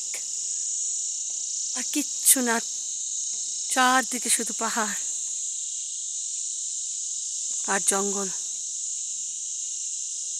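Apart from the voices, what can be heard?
crickets chirping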